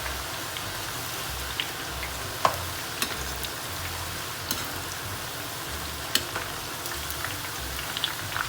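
Homemade chips fry in hot oil in a kadai with a steady, even sizzle and scattered small pops and crackles, close up and uninterrupted.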